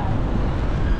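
Wind buffets the microphone in a low, continuous rumble on a street walk in Kilimani, Nairobi, loud and close, lasting only a moment.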